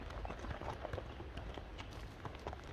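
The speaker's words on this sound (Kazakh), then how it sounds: "Көрүңүздөр атты." A horse's hooves clip-clop in a quick, uneven rhythm on the ground at moderate distance, set against a faint outdoor background.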